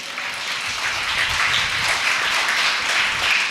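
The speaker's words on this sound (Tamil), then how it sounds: "ஒரு கிளாப் பண்ணுவோமா?" A church congregation at a Tamil Sunday service breaks into sustained applause, a dense wash of many hands clapping at steady loudness with no speech over it.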